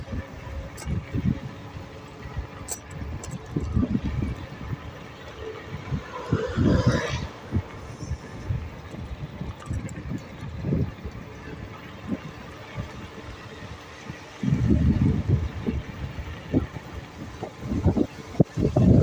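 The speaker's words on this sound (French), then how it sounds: "il y a beaucoup de vent" Strong wind buffets the microphone while riding an iScooter IX7 Pro 2000W electric scooter, with irregular low rumbling gusts that swell and fade throughout.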